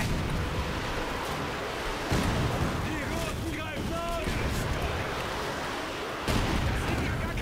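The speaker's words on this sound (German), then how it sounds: "Zumindest schon mal mit den Granaten da rein hämmern." Heavy booming explosions and rumbling blasts from artillery shelling in Company of Heroes 2, with whistling projectiles overhead and a constant roar of game battle noise.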